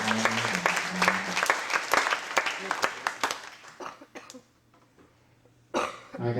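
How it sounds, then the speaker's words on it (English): A crowd of high school seniors at an all-night hypnosis show breaks into scattered applause with a few coughs, the clapping thinning and fading into near silence before a voice cuts back in. "This audience is going to give you a round of applause"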